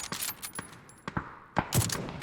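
Suppressed M24 sniper rifle in a PUBG custom game, a series of sharp, muted cracks spaced irregularly, several shots close together near the end, heard alone without talk.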